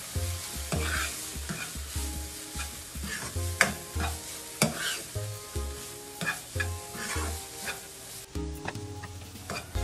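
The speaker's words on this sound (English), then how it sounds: "We will now add in our chopped mushroom stems." Chopped mushroom stems sizzle and get stirred in a pan for stuffed mushrooms, a steady close frying hiss with repeated utensil scrapes and a low background hum, no talk.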